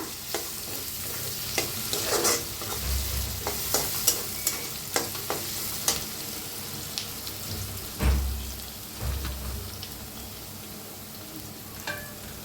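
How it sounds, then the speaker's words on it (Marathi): Chopped onion frying in hot oil in a pan for a dhaba-style matki recipe, a steady crackling sizzle with repeated stirring scrapes and occasional louder spatters, close and alone with no talk. "तर छान असा कांदा भाजून घ्यायचा।"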